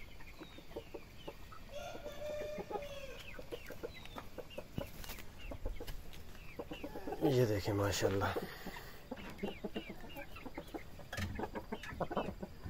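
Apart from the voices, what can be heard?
hen clucking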